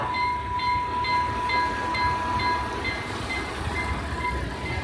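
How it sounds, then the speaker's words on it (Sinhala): A train rumbles past steadily at moderate distance, with a sustained tonal hum and faint rhythmic clatter throughout; no voices. "කෝච්චියක් යනවා"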